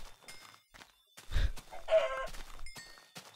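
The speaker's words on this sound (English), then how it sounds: "I got myself a chicken." A Minecraft chicken clucks a few times in a short burst, with a soft thunk and some light game sounds around it, no one talking.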